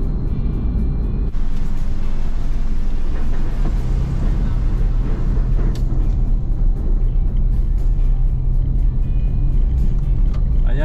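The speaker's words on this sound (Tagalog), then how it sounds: "so ito na po yung Cavitex C5 Link Expressway" Car cruising along the Cavitex C5 Link Expressway, a loud, steady road and engine rumble with wind noise filling the whole stretch, no pauses.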